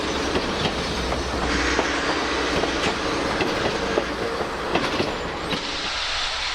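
A steam passenger train with open vestibules climbs over rolling hills on a Tennessee Valley line, giving a steady close rumble with rhythmic wheel clatter and occasional sharp clicks, no voices.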